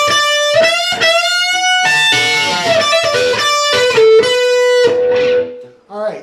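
Electric guitar plays the next lick of a song up around the 15th and 16th positions: bright, lightly distorted sustained notes and slides with a few rapid flurries, loud and close, fading at the end.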